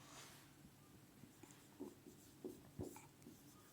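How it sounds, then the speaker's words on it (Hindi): Chalk or marker writes on a board in a classroom physics lesson, leaving a few short, faint scratchy strokes in quiet surroundings. "इधर लिख देता हूं।"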